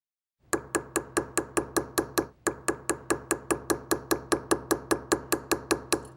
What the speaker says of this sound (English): you can take your hammer and then move it a little more quickly